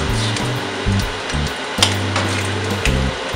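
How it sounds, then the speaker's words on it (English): Spam slices fry in oil in a pan, a steady close sizzle with crackling pops and occasional clanks of a utensil against the pan. "Add some oil to the pan, frying our spam."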